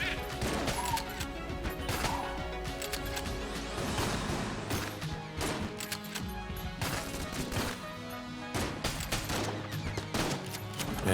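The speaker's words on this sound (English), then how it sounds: "I love the Luxon cannon, man. Just such a satisfying sounding gun." Luxon cannon firing in the video game Enter the Gungeon, rapid repeated blasts and crashing impacts in dense bursts over game music, loud and continuous with brief gaps.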